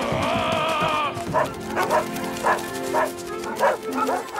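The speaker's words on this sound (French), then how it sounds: "Oh non, pas les chiens!" Several cartoon dogs bark in quick, regular yaps, one after another, after a brief sustained whine-like tone at the start.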